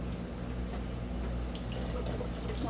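Tepid tap water runs steadily into a narrow vase, a continuous close, full splashing gush with no pauses and no talking over it.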